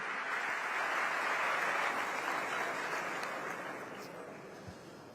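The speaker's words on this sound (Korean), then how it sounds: "따뜻한 박수로 환영해 주시기 바랍니다." Sustained applause from a large audience at Cairo University welcoming South Korea's president, a dense wash of clapping that stays strong and then slowly fades toward the end.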